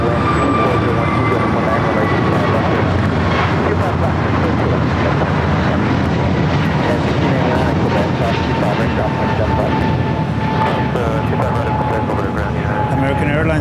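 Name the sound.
American Airlines Airbus A321neo jet at LAX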